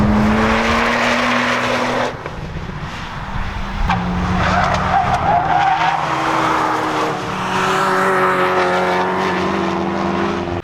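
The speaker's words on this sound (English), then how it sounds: "Watching these cars on the track makes me wish my Mitsubishi was here." Volkswagen and Audi club cars racing around a track at a Norwegian club meet, engines roaring past with rising and falling revs, gear changes and brief tire squeal, loud and close throughout.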